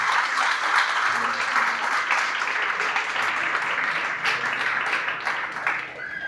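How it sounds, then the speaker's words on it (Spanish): Church congregation clapping loudly together in praise, a dense, steady wash of many hands lasting several seconds, easing slightly toward the end, with some indistinct voices mixed in. "Denle más fuertes palmas al Señor."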